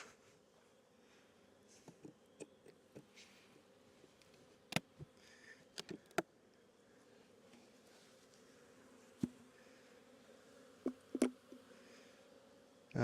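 A very active honey bee colony at the hive entrance, a steady low buzzing drone from many bees close by, with occasional faint ticks and taps on top.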